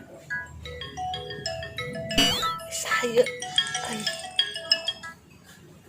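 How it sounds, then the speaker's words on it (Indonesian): A melodic electronic phone ringtone plays in a Sundanese comedy short, bright chiming tones repeating steadily while voices talk over it. "Telepon ya."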